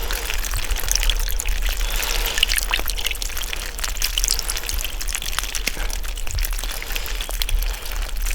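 Birch sap splashes and trickles steadily from a washstand, a continuous close pouring with no talk.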